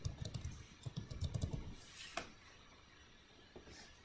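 Fingers typing a password on a computer keyboard, a quick close run of light clicking keystrokes for about two seconds, then a couple of isolated taps in a quiet room.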